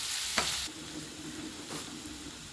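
Sliced onions sauté in a pan while being stirred, giving a steady close sizzle with a few sharp scrapes of the spoon and no voices.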